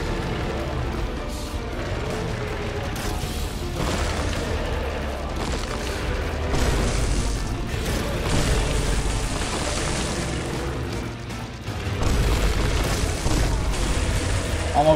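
Bombs exploding in a video game, heard as repeated deep booms and rumbling blasts layered over busy game sounds for the whole stretch, with a louder burst near the end.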